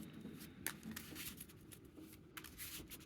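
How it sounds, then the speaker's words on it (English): Deck of playing cards being shuffled during a card game, soft rapid riffling and flicking at close range, quiet and continuous with a few sharper snaps, no speech. "which is what's causing me to shuffle right now"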